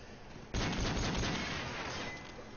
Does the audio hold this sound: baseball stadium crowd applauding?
no